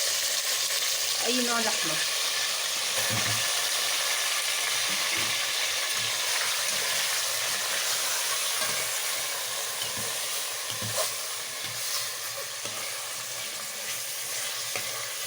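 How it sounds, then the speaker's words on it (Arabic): Meat frying in oil in a cooking pot for a home-style Egyptian stew, a steady close sizzle and hiss with occasional stirring clatters, under brief talk. "شوية زيت في الحلة ننزل عليها باللحمة"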